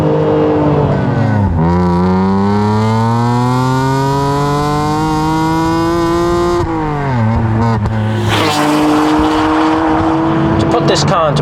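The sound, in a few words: sports car straight-six engine revving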